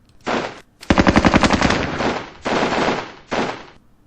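Automatic gunfire in a war video game set in a winter battle at Terijoki: loud, close bursts of machine-gun fire, one long rapid rattle followed by two shorter bursts, with no talk.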